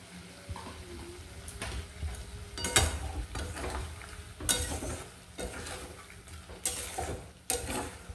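Chicken with spices is stirred and fried in a pan with small splashes of water. A low sizzle runs under intermittent scraping and clinks of a utensil, growing louder at a few strokes.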